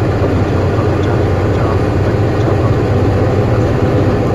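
A Mercedes-Benz Actros automatic truck with a gear-selection fault sits with its heavy diesel engine revved, giving a loud, continuous low roar close by.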